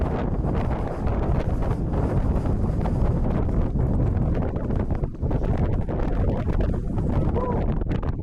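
Strong gusting wind buffets the microphone on the summit of Mount Mansfield in Vermont, a loud, continuous roar and rumble that keeps up from start to finish with no speech.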